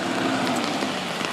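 Steady rain patters densely and evenly on surfaces outdoors, a loud continuous hiss with faint individual drop ticks and no speech.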